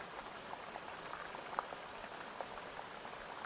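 Soft rain falls in a faint, steady patter with occasional slightly louder drops, with no voices.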